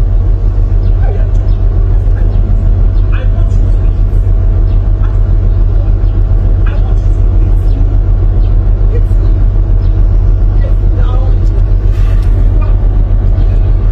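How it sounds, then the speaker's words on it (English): A car engine idles and rumbles loudly right up close, a steady low drone running throughout while people argue and shout over it. "This car will hit you."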